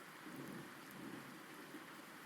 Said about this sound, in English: I hope this rain stops soon